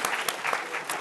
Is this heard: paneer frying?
no